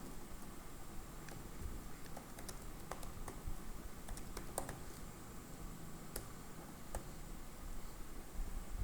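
Computer keyboard keys click in scattered bursts while code is typed, faint and close against a soft background hiss, with no talking.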